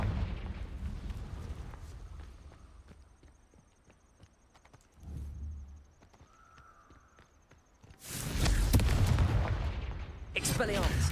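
A Confringo spell explosion in the Hogwarts Legacy video game, a sudden loud burst after a quieter stretch of clicks and game ambience, followed by another sharp blast near the end.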